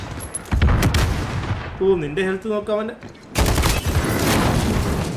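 Call of Duty Modern Warfare multiplayer gunfight: loud bursts of rapid gunfire at the start and again near the end, with a player talking excitedly in between.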